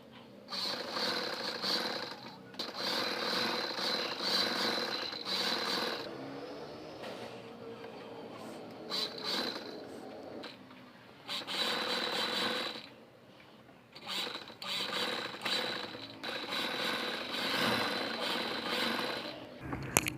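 A sewing machine stitching pieces of an umbrella-cut baby frock, whirring in repeated bursts of several seconds each, separated by brief pauses, close and fairly loud, with no speech.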